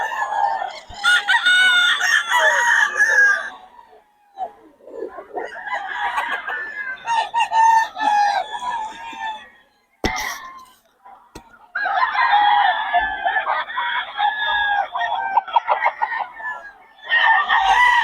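A Nelson Gray gamefowl rooster crows loud and near, several long harmonic crows repeated with short pauses between them, with some clucking and other fowl faintly in the background.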